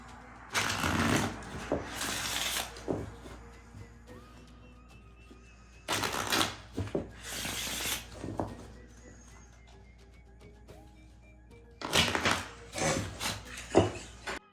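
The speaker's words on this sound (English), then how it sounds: "And you place those into the deck with the rest of the cards and get them all shuffled up." A deck of game cards shuffled by hand on a tabletop in three separate bursts of riffling and rubbing a few seconds apart, each about two seconds long, with quiet pauses between.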